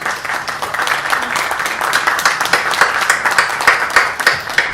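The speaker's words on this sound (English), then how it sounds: "We can clap." Audience clapping at a book event, steady and fairly close, with dense irregular claps building and continuing throughout without talk.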